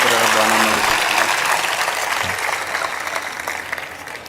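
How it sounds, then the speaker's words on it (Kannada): Audience applause at a public gathering honouring a mother and her family for blood donation: a dense, sustained wash of clapping from a large crowd that tapers off slightly toward the end. "ಆ ತಾಯಿಗೆ ಮತ್ತು ಆ ಕುಟುಂಬಕ್ಕೆ ತಮ್ಮದೊಂದು ಹೃದಯ ತುಪ್ಪಿ ಒಂದು ಚಪ್ಪಾಳೆ ತಟ್ಟಿ"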